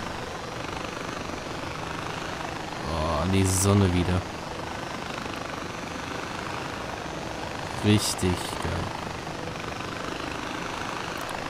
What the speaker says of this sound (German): das ist halt ein Gyrokopter, kein richtiger Hubschrauber.